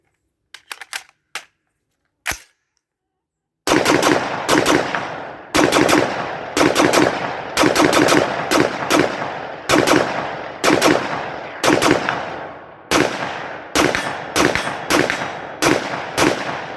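After a quick reload, a gun fires a rapid string of loud, sharp shots in close, rhythmic bursts, preceded by a few faint mechanical clicks and a short silence.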